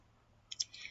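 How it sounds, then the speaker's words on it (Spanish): A computer mouse gives a quick right-click while Microsoft Word is being edited, a few faint, sharp clicks close together near the end of an otherwise quiet second. "voy a dar clic derecho"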